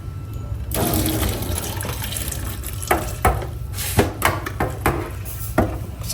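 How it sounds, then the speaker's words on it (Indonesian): Boiled soybeans for tempeh being drained, with a steady stream of water pouring and splashing close by, broken by several sharper clatters and sloshes. "Setelah didinginkan, kacang kedelai kemudian ditiriskan."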